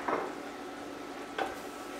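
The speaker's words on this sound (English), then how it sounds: "And I'll stir." A spoon stirs a sugar cake mixture in a pot, making two soft scraping swishes about a second apart over a quiet bubbling sizzle, close but faint.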